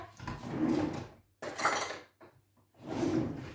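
Kitchen utensils clatter and clink nearby as someone rummages for a ladle, giving three short bursts of metal and wooden knocks separated by brief pauses.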